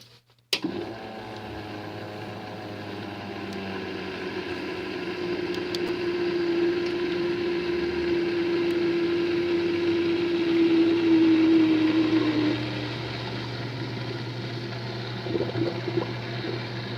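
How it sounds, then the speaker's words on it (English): Water being poured into a running PC custom water-cooling loop: a sharp click, then a steady pump hum with gurgling flow and a rising tone that fades near the end, continuous and close, with no speech. "I'm gonna turn it back on and slowly pour water in"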